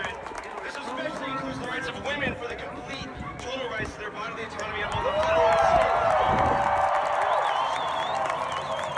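Large protest crowd in Salt Lake City, Utah, a dense continuous roar of many voices with scattered shouts and whistles, swelling louder midway through and staying steady.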